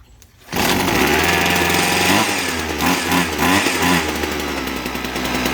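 A small gas engine on a Husqvarna hedge trimmer that only runs on choke sputters, then revs up to a loud, steady buzzing drone, its pitch wavering as the throttle is worked.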